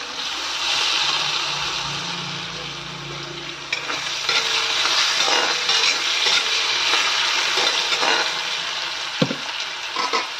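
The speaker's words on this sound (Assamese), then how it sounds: "মই এতিয়া আকৌ আলু পিচ দি দিম আলু পিচটো এনেকৈ ভাজি ল'ম মই" Potato pieces frying in a pan give a steady, close sizzle throughout, broken by occasional scraping clinks of stirring and a sharp knock near the end.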